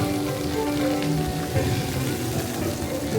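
Steady spray and splashing water at a children's splash play area in a theme park, a dense, continuous hiss with a faint tonal line of music behind it.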